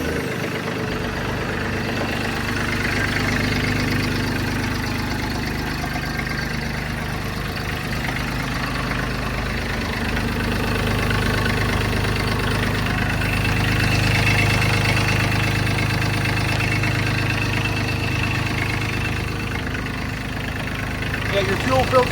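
A Bad Boy 3026 compact tractor's diesel engine cranks, catches and settles into a steady, rumbling idle up close, with a slight knock running throughout.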